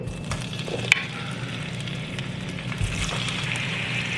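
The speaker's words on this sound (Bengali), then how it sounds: "তেলটা গরম হয়ে গেছে, এর মধ্যে এবারে চিংড়ি মাছগুলোকে সব দিয়ে দেবো।" Prawns fry in hot oil in a pan over a medium-high flame, giving a steady, soft, close sizzle with faint crackles and no voices.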